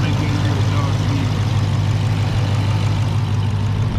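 A Dodge Challenger Hellcat Redeye fitted with a Legmaker exhaust idles in a steady, deep, low rumble with a constant, even drone and no revving.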